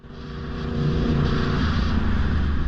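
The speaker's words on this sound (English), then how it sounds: "That was a downshift. I believe that was a downshift." Motorcycle making a rough downshift, heard as a sustained close engine drone that swells in the first moments and then holds steady, with no voices.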